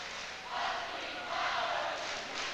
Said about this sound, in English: Oak Park crowd very excited, as you could well imagine, being in a state championship